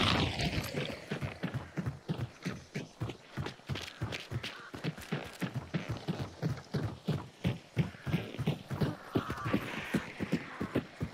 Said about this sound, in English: Oh wait, horse.